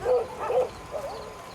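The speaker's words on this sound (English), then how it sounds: "The guys, all of them have guard dogs." A trained military guard dog on a night patrol in a war zone gives two quick, close yelping barks and then a softer whining yip.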